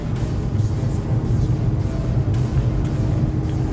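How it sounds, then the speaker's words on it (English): A Volkswagen Scirocco engine idles steadily with a constant low rumble, close by and alone, with no change in pitch or level. "Now let's test a Scirocco."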